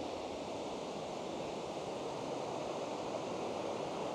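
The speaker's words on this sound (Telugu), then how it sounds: "ఇదే లూమ్స్డేల్ వాటర్ ఫాల్" Lumsdale waterfall flowing, a steady, even rush of falling water heard as faint broadband noise with no breaks or voices, constant from start to finish.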